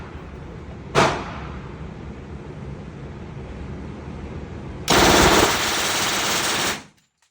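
A MAC-10 machine gun fires close and loud: a single sharp shot, then a rapid automatic burst lasting nearly two seconds before cutting off.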